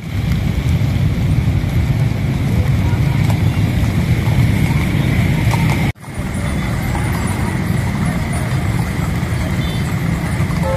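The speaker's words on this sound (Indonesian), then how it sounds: "hujan yang terus mengguyur" Heavy rain pours steadily over an outdoor royal palace procession in Surakarta, a dense, loud continuous hiss with a rumble of crowd and traffic beneath, unbroken apart from a brief dip midway.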